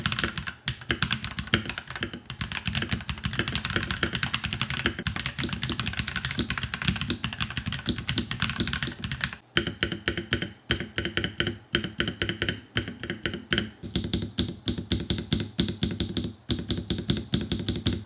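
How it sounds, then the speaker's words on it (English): Steady, even clacking of a NuPhy Halo 65 mechanical keyboard spacebar pressed over and over, close and crisp, with a slightly brighter, sharper tone in the second half. "you can hear pretty much anywhere I press on the spacebar is just an even type of sound."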